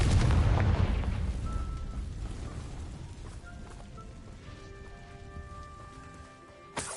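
Confringo spell from Hogwarts Legacy on PS5 bursts in a loud, heavy explosion with a deep booming onset that rumbles and slowly fades over several seconds, leaving faint tonal game sounds behind.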